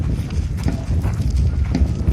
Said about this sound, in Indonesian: Nah, kuda seperti ini.